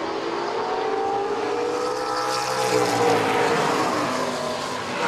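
Late model race cars circle a short oval track in single file, their engines droning and rising together as a pack sweeps past at middle distance, a steady loud roar with a swelling pass-by midway.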